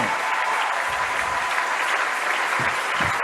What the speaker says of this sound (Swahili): Tuendelee na kumchapia tena makofi Yesu.